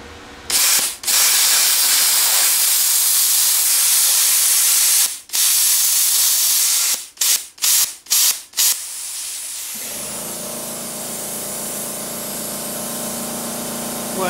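An Everlast Power Plasma50 plasma cutter running at 25 amps on 110 volts cuts through metal with a loud, harsh hiss. The hiss breaks off several times in short stops and restarts, then settles into a lower, steadier rush.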